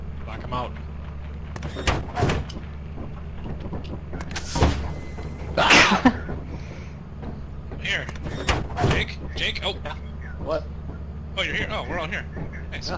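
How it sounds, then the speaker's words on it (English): A door slides shut with heavy thumps and mechanical rumbling in the horror co-op game Lethal Company. Several excited players talk over it, with a low engine-like hum underneath throughout. "Shut the door."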